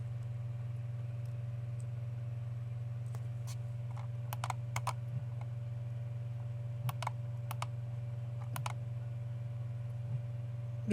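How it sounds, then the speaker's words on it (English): Typing data on a computer keyboard: scattered quick key taps in small bursts over a steady low hum, fairly faint and close, with no talking. "I'm just typing in this data here."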